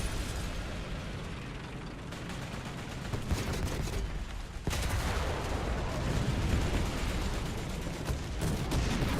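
Tank battle in the video game War Thunder, with continuous dense booming and rumbling of cannon fire and explosions filling the mix, a sharp heavy blast partway through and no clear talk.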